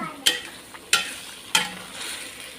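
Pindang bandeng, Betawi-style milkfish in a soy-seasoned broth, stirred in a pan with three distinct spoon scrapes at even intervals over a soft simmering sizzle.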